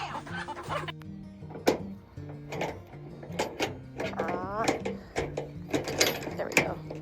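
A rooster and two hens clucking close by, with short repeated clucks and squawks scattered throughout, while a person talks softly over them.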